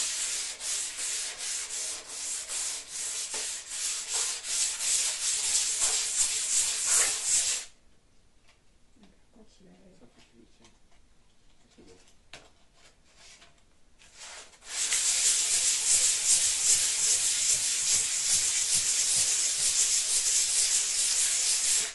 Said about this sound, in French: J'ai juste besoin de poncer légèrement le plan de travail, il est nickel. Donc voilà, j'ai juste besoin d'une cale à poncer, pas besoin de machine.